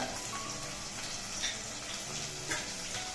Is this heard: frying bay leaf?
yes